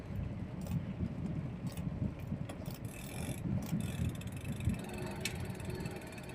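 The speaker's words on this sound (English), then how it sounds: "I'm hearing some weird noises. Is my chain too long? I changed the chain on this bike." Mechanical clicking and rattling from a bicycle drivetrain after a chain replacement, a steady irregular ticking run through continuous rolling noise from a nearby ride outdoors.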